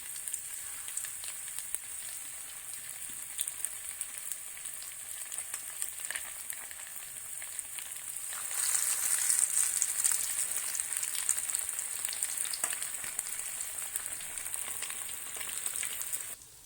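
Chicken frying in oil over a low flame: a steady, hissing sizzle that continues throughout and swells slightly louder about halfway, with no talking.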